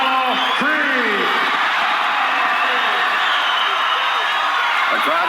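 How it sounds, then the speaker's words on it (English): A large boxing arena crowd roars in a dense, continuous wash of cheering as a fighter enters the ring in Rocky IV, loud and unbroken, with a commentator's voice cutting through near the start and end. "The crowd anticipating a great fight now as Apollo is in the ring"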